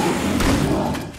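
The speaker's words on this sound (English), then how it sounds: "Okay, the dung beetle just rolled on me" A heavy, muffled thud and rumble as a giant dung beetle rolls over the player in the horror game Fossilfuel 2, one loud, close, low impact lasting about a second.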